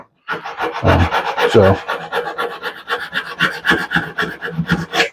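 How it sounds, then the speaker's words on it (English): Steady back-and-forth rasping of 100-grit sandpaper on a sanding block against wood, rhythmic hand strokes close up, with a faint breath or voice at moments. "Nothing more exciting than sanding"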